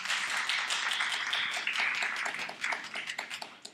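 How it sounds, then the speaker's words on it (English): An audience at an arts and lecture series event applauds with dense, steady clapping that holds strong before thinning and fading toward the end. "So I would like you to give yourselves a round of applause."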